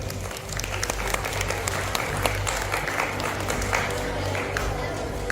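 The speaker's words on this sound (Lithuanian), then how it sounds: "Dar kartą jūsų plojimai." An audience claps steadily at a children's book-day event, a dense, sustained round of applause from a crowd that carries on without pause, with a presenter's voice faintly over it.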